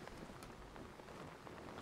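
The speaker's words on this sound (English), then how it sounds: "It's raining. It's pouring." Steady rain pattering down in the video game Dying Light, a dense continuous hiss of drops on surfaces that fills the whole stretch at low volume with no talk over it.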